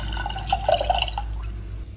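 Tamarind water pours from a vessel into a pot of pumpkin sambar, a short splashy trickle with a few bright drips over a low steady hum, close and clear.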